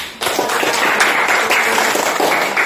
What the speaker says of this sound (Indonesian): Ibu berikan tepuk tangan.